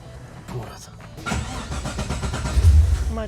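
A Datsun 280Z with an LS engine swap cranks with a few rhythmic turnover pulses, then catches and settles into a rough running idle close by, while people talk over it.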